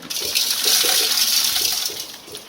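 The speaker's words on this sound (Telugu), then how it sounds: "ఎక్కువగా నీళ్ళు పోసుకోకుండా మితంగా పోసుకోండి" Water poured into a cooking pot, a continuous splashing rush that is loud and close, easing off toward the end, with no voices.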